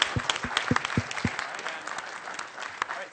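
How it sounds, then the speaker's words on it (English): A panel audience breaks into brief applause, with several sharp, distinct claps at first that soon blur into a softer, thinning patter lasting about three seconds. "Give everyone a round of applause."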